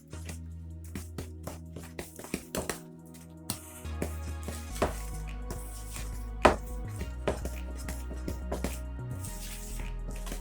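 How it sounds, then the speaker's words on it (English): Bisquick velvet crumb cake batter stirred vigorously by hand in a bowl, irregular knocks and taps of the spoon with soft squishing, close and quiet, no talk. "so I am just stirring it. It says to mix vigorously."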